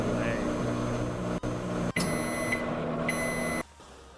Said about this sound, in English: I mean the microwave's kind of working.